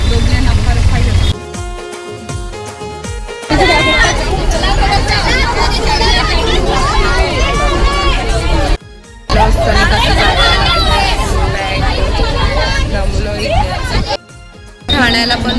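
Busy crowd hubbub at Thane railway station in Maharashtra, a dense, continuous babble of many voices with traffic-like rumble, broken by two brief quiet gaps.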